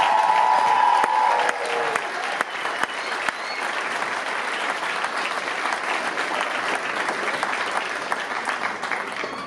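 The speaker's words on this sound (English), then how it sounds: "please, just one more big round of applause for the dancers of Bruna" Audience applause for dancers at a year-end concert, a sustained, even roar of many hands clapping that continues for the whole stretch. A brief tone sounds at the very start.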